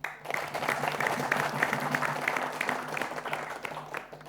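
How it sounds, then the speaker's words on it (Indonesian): A studio audience at a televised quiz competition applauds warmly for a few seconds, dense clapping that swells and then tapers off. "Kita berikan tepuk tangan untuk mereka semua."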